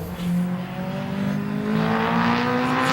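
Race car with a 2.2 litre stroker engine roaring steadily at high revs on a circuit, a loud sustained drone with the pitch slowly climbing as it pulls away.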